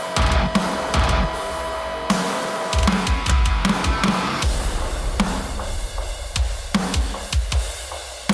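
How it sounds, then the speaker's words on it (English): Programmed metalcore drums for a chorus pound away in a dense, loud pattern of punchy kicks and crashing cymbals, driving steadily without a break. "So I programmed some drums for the chorus,"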